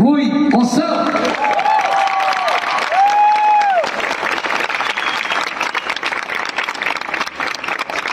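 Concert audience applause for musicians being introduced at a show in Portimão, a loud, dense crowd clapping and cheering throughout, with a sung or held voice note rising over it early on.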